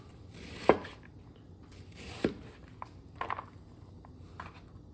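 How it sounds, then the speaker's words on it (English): A knife chops an onion on a board while meatloaf is being prepared, giving a few separate cuts with sharp knocks at irregular intervals and softer taps between them, fairly close and with no talk over it. "Cut up this onion."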